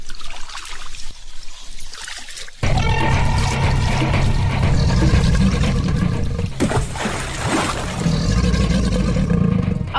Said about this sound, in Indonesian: Mas Manca, Ki Wuragil, dan Ki Wila menempuh perjalanan dengan menyusuri sungai menggunakan rakit